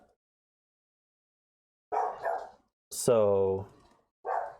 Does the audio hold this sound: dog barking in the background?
yes